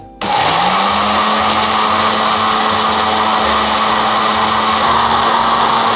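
A kitchen blender grinds spices with water and salt for a yellow bamboo shoot and shrimp dish, starting abruptly and then holding a loud, steady motor whir, close and alone.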